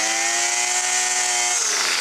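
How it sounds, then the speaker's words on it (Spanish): A Craftsman 25 cc brush cutter engine runs at high revs with a steady, loud, buzzing two-stroke whine, close by, and the pitch starts to drop toward the end, with no voices. "si la máquina ya está trabajando así y revolucionando el motor"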